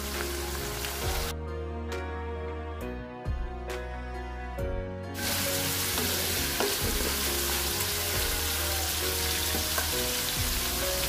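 Anchovies and fermented soybean paste (tauco) sizzle and crackle loudly in a hot pan while being stirred, frying in a papaya flower stir-fry with anchovies and petai, a steady close hiss with a few scraping stirs, no voices.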